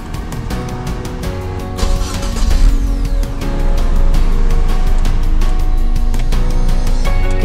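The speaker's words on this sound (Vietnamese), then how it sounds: "cái tiếng xe nó rất là giống như chiếc xe con" A Foton Grantour TV22 van engine idles after starting, with a rough mechanical rumble and rapid ticking that grows a little louder and steadier over time.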